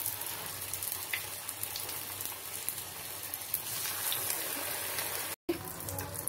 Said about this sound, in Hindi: इसी तरह हम सबको फ्राई कर लेंगे।